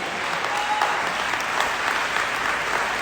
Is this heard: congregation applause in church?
yes